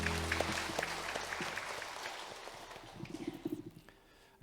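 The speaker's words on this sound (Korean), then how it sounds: "박수 한번 주실까요?" A church congregation applauds during a Sunday worship service, a dense wash of clapping that starts strong and slowly thins, with a few sharper claps near the end before it fades out.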